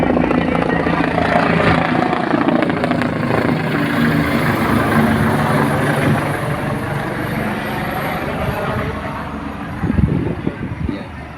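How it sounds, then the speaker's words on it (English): An air ambulance helicopter approaching a helipad in Chennai, its steady loud rotor chop and turbine whine filling the scene continuously, with a brief louder burst near the end. "look at the glorious helicopter making its way to Savita helipad"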